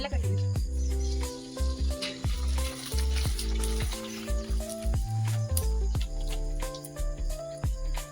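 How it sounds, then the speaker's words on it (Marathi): Kurdaya, rice papads, frying in hot oil during home cooking, giving a crackling sizzle with sharp pops and spatters, while clattering and some background voices mix in. "आता ती कुरडया तळून घेतली"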